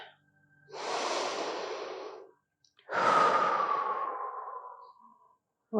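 After a side-to-side crunch workout set, two long, deep breaths are heard up close, each a drawn-out airy exhale or sigh separated by a brief pause, with no talking.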